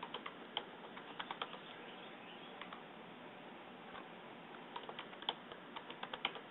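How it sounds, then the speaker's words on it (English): A password is typed on a computer keyboard, soft rapid key clicks arriving in short bursts with pauses between them, close and fairly quiet. "type a password."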